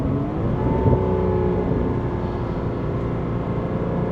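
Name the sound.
Porsche engine revving during PDK downshift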